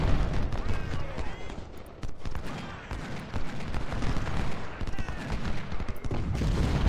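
Gunfire from a battle in the Civil War strategy game Ultimate General: Civil War, at Salem Church: a dense, continuous crackle of musket volleys and heavy booms rolling without pause, loud and close.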